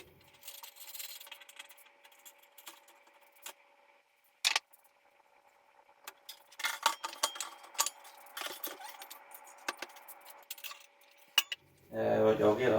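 Parts of a Filtrena J-50 water filter are unscrewed and handled in a quiet room during a house build. Sparse metallic clicks, clinks and scrapes come close by, and a louder rustle sounds at the end.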